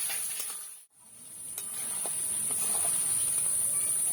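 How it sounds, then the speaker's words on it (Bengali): Mutton fries in a pan with a moderate steady sizzle and hiss, a brief dip near the start before the frying noise returns, with faint scattered stirring ticks. "এবার আমি মাংসটা নেড়ে চেড়ে ভালো করে কষে নেবো।"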